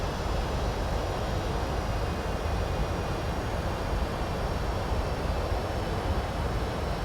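Aircraft engines in the X-Plane flight simulator roar in a steady, loud, broadband drone that holds constant throughout without speech.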